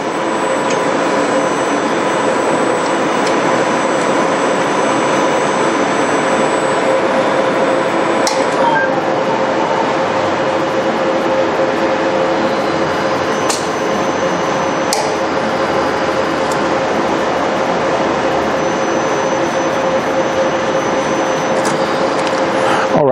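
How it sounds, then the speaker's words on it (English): A Mimaki CJV300 printer carriage moves out of its capping station for a nozzle check, giving a steady mechanical hum with a sustained tone and a few faint clicks and ticks, continuous and close throughout. "At this moment, the printed carriage just came out from a capping station to check the nozzle condition for each single channels."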